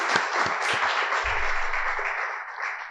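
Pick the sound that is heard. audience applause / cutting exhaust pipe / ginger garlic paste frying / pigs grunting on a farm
audience applause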